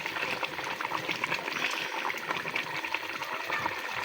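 Chicken korma simmers and bubbles in a pot while a wooden ghotna mashes it, producing a continuous low, wet churning and gurgling with soft rhythmic stirring throughout.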